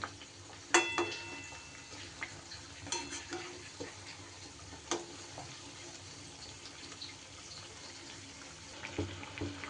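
Balushahi sweets deep-frying in hot oil, a continuous bubbling sizzle broken by irregular clinks and scrapes of turning them over, fairly close and moderately loud.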